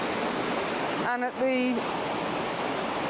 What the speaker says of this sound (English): the little waterfall coming down behind it, the little cascade, works beautifully